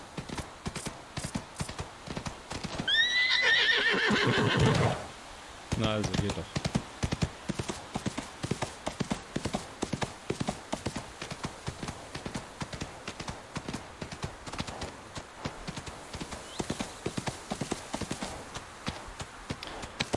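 A horse whinnies with a harmonic, rising call in the Ostwind video game, followed by a steady run of clip-clopping hooves under ongoing game sounds and occasional speech.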